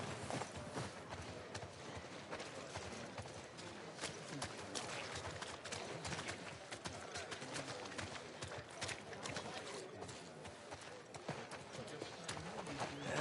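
Horse hooves clip-clopping at a steady walking pace in The Last of Us Part II, a continuous close rhythm of hoofbeats running the whole way with faint game ambience beneath.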